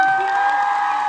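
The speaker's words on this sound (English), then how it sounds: "Please give a huge round of applause" A Comic Con Liverpool audience applauds in a brief, dense, loud burst of clapping with a faint crowd murmur, heard close and steady for about a second.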